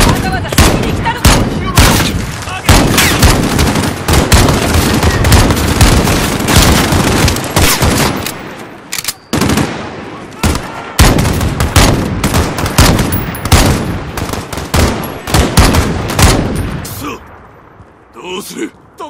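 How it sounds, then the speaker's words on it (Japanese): Nonstop automatic gunfire and booming blasts fill a firefight in the embassy mission of the Call of Duty: Modern Warfare campaign on PS4 Pro, loud and close, with voices talking over the shooting. "どこから撃ってやがるんだ。"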